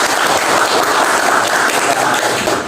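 A classroom of students applauds together in a dense, continuous burst of clapping that holds steady at close range, with no voices over it.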